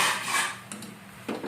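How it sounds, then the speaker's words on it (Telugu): A spoon stirs coriander into ugrannam in a metal pan, producing close scraping and rubbing with a couple of light clinks against the pan, moderately quiet and without speech. "కొత్తిమీర వేసుకుని కలపాలి"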